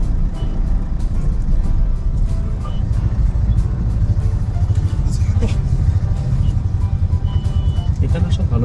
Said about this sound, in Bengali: প্রচণ্ড জ্যাম লেগেছে, গাড়ি বেরোচ্ছে তো প্রায়